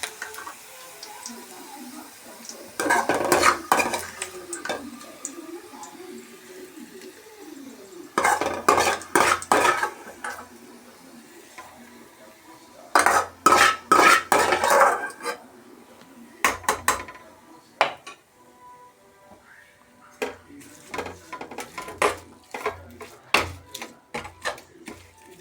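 Cooked food mixed in a vessel with utensils, bursts of stirring and scraping with sharp metallic clinks against the pot, separated by quiet pauses, then quicker taps toward the end, close and alone.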